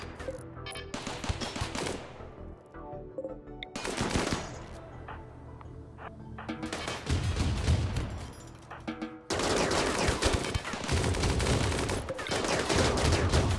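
Repeated bursts of gunfire in the video game RimWorld Odyssey, rifle shots and rapid volleys crackling in clusters with brief lulls between them, loud and continuous toward the end.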